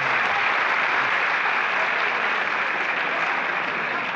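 Steady, dense audience applause at a poetry recital during the Faisalabad literary festival, a continuous even wash of many hands clapping with no break or voices over it.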